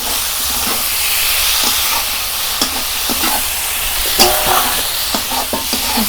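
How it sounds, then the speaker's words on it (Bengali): Fried koi fish dropped into hot spiced oil for a Bengali tel koi curry, giving a loud, close, continuous sizzle and hiss with scattered spoon scrapes and stirring clatter. "এর মধ্যে ভেজে রাখা কই মাছগুলো দিয়ে দেব।"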